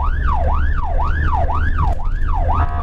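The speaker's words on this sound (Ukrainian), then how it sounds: "Їздимо разом з рятувальниками з увімкненими спецсигналами по зазвичай проблемних вулицях." Fire-rescue emergency vehicle driving through city streets in Rivne with its siren on, a loud close wailing tone sweeping up and down in regular rapid cycles over low engine rumble.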